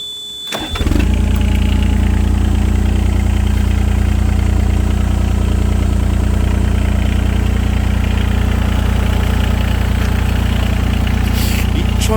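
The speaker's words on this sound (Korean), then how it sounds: "엔진 소리 한번 들어볼게요" The engine of a 2015 Yanmar VIO17 mini excavator with about 2400 hours cranks and catches, then settles into a loud, steady, close-up idle rumble for around eleven seconds.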